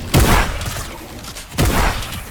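Shotgun fire on a Fortnite aim-training map: two loud, heavy blasts about a second and a half apart, each with a short booming tail, close and prominent.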